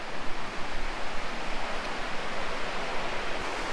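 A small river rushes steadily beside a camping spot, a dense, even wash of flowing water filling the clip with no pauses and no voices.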